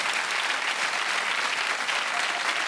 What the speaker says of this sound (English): A round of applause for Hitler.